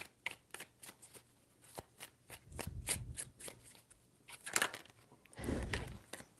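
Tarot deck shuffled by hand at close range, a quick series of soft card flicks and riffles in an uneven rhythm, quiet and with no voices.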